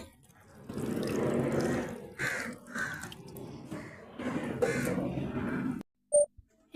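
Water is poured over freshly planted tomato, chilli and marigold seedlings in a terrace garden, a steady close splashing that lasts about six seconds and then stops, followed by a couple of brief crow caws.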